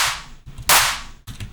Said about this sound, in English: Altogether, the claps sound like this.